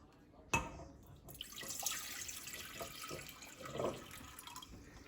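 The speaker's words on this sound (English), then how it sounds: "You will put your water in." Water pours steadily into a pot with a soft, continuous splashing stream, fairly quiet and close.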